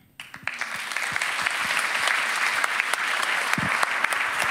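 An audience at a talk about queerness in fiction bursts into applause, the clapping swelling within the first second into a dense, sustained round that stays close and loud throughout.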